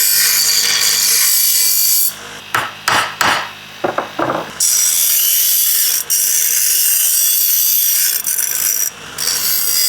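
A small handheld grinder works on metal edges, with a steady loud bright whine interrupted by several brief pauses and scraping bursts.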